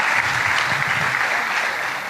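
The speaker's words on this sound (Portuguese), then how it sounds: "Aplauda o Senhor por essa palavra." A church congregation applauds in praise after a sermon in a financial teaching course, a steady, dense wash of many hands clapping close and loud, with no talk over it.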